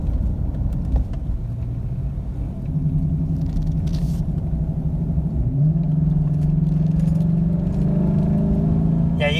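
Engine of a 2016 Chevrolet Silverado 1500 fitted with an S&B cold air intake, a steady low rumble that rises gently into a deeper whooming drone partway through, close and continuous without hard revving.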